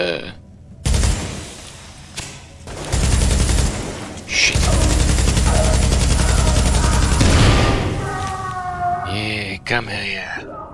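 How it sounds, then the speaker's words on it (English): Gunfire in Tom Clancy's The Division on PC, Broadway Emporium mission: sustained loud bursts of automatic fire with brief gaps, followed by a warbling alert tone, and a person talking over it. "Yet I'm being shot at."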